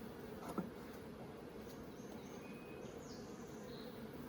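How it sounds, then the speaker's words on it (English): Honey bees buzz in a steady, low drone around an open beehive during an inspection, with blackberries in bloom nearby. The hum stays even and close throughout, with faint bird chirps above it and no voices. "I can tell you right now that these bees are making honey."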